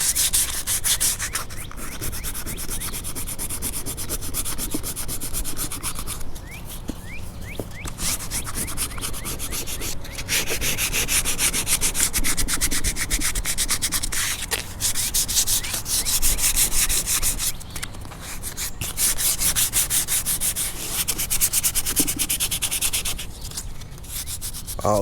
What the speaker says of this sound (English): Now we'll get ready to start sanding this 1-part glaze and putty.